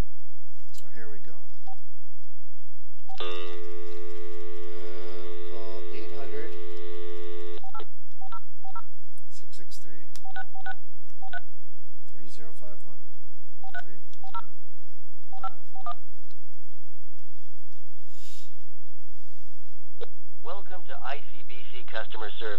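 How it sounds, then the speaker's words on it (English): Telephone keypad dialing tones on a call to ICBC: a series of short DTMF beeps pressed at an uneven pace, with one long steady tone early on, over a constant hum and background noise. "we're going to make a phone call"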